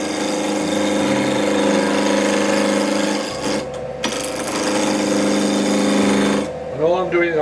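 A wood lathe spins at around 1500 rpm while a Record lathe tool, supported on the tool rest, rubs the bevel against the wood. It gives a steady, loud, tonal whir with a brief dip partway through, then stops near the end.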